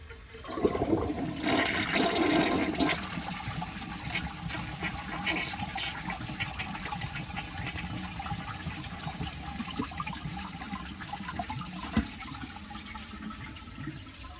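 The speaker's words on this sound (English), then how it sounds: "we'll flush it to see if we can clear the blockage without having to reach in and grab it" A 1991 Peerless toilet flushes with a loud rushing whoosh at the start against a blockage, then settles into a long steady trickle and hiss of the tank refilling.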